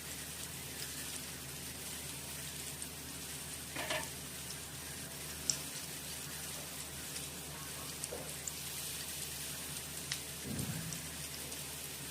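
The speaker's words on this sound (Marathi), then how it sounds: "सुरमईच्या तुकड्यांना गोल्डन ब्राऊन कलर येईपर्यंत फ्राय करून घ्या." Surmai kingfish pieces shallow-frying in hot oil for an Agri-style surmai thali, a faint, even crackling sizzle like light rain with occasional soft knocks, no voices.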